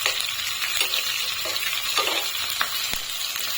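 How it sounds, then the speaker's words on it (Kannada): Tomato masala for a sprouted gram curry fries steadily in a pan, a continuous close sizzle with occasional stirring scrapes and small pops, no voices over it. "ಅದನ್ನೆಲ್ಲ ನೀಟಾಗಿ ಈ ಥರ ಫ್ರೈ ಮಾಡ್ಕೋಬೇಕು ನೀವು"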